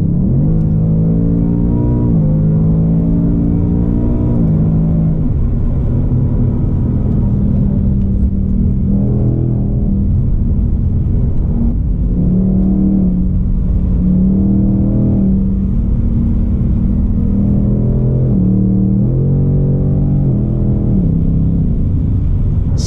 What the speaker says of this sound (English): you gotta love that exhaust and the way it shifts through those gears